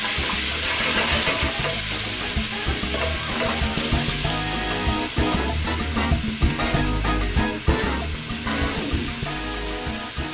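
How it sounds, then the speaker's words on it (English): Onions, garlic and fresh herbs fry and get stirred in a pan for lasagna, giving a loud, steady sizzle with scraping stir noises throughout and no talking. "And we give that all a little stir."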